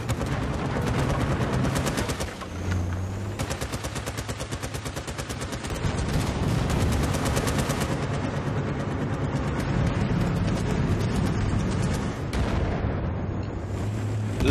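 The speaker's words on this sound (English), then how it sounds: "There's something shooting over here, I just don't know what. I mean, I know what it is, it's a tank" Heavy tank and gun fire in Battlefield Bad Company 2, a squad deathmatch round: dense, continuous rattling bursts with booming low rumble throughout, loud and close, a brief lull near the start before the barrage resumes.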